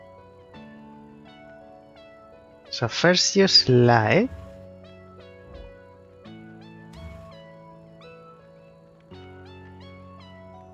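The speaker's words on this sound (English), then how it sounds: "There is a cat in the background because the story is about a cat." Cat meows woven into the background music of the parking video game Park It, a loud burst of harmonic mewing standing out briefly over steady synth tones while a person talks over the gameplay.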